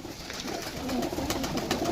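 Pigeons coo in soft, low, throaty bursts, several birds overlapping close by with a steady murmuring rhythm.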